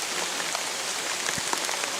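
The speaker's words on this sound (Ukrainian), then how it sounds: "Дощ. Жоден прогноз. Жоден прогноз не не показував дощу." Rain patters steadily on surfaces outdoors in a floodplain, a dense, even hiss of drops with a few louder individual plinks, no voices.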